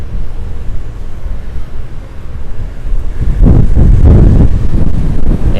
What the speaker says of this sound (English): that wind is strong this morning.